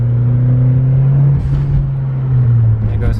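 A Mitsubishi Lancer Evo engine cruising steadily at 3,000 RPM in second gear, a loud sustained low drone heard from inside the car with a brief dip and a faint hiss partway through.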